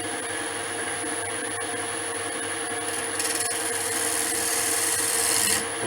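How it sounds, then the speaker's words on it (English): A gouge shear-scraping the foot of an off-centre wooden bowl on a lathe gives a steady, close, continuous rasping scrape that swells slightly louder near the end. "just do a very small shear cut or a shear scrape just right into the foot"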